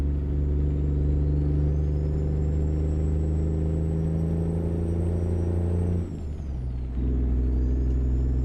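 An AI traffic truck in American Truck Simulator rumbles past, with a steady, loud low engine drone and whining tones that dip briefly near the end before the rumble resumes. No one speaks.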